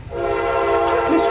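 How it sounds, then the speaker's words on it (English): A passing train sounds its horn in a long, loud, sustained multi-tone blast over low rumbling rail noise, steady for the whole moment with no talk. "This train."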